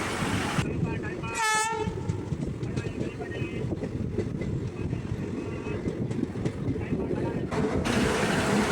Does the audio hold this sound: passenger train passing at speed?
yes